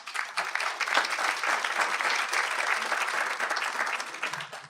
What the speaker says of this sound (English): So a big round of applause for Terry.